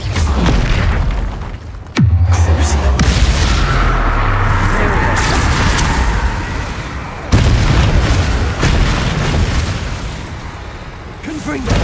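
Bombarda spell blasts in Hogwarts Legacy, heavy booming explosions with a big impact near 2 seconds and another around 7, rumbling debris and crackle between, with a player shouting spell names over the fight.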